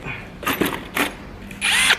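A power drill whirs in several short bursts, stopping and starting, with the last burst longer and higher-pitched as it bites into metal intercooler piping on a Mazda MX-5 Miata.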